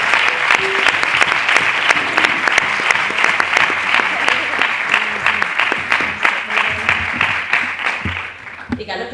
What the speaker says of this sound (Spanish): un aplauso muy grande a Sole